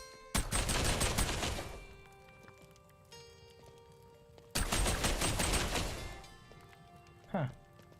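Gunfire bursts in the video game Wizard with a Gun: two dense, loud volleys of rapid shots, each a couple of seconds long with a fading tail, followed by a brief rising magical zap near the end.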